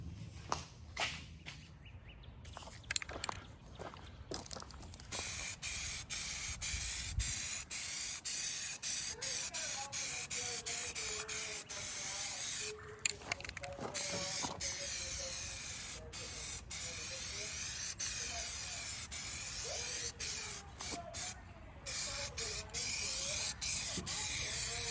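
Eastwood rust encapsulator sprayed from an aerosol can onto metal parts for an industrial coffee table, long steady hissing bursts close by with brief pauses and faint rattles between passes.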